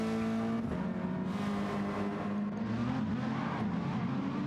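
A racing car engine in a video game race at Monza whines and buzzes continuously, its pitch rising and dipping as it revs, loud and close with no talk.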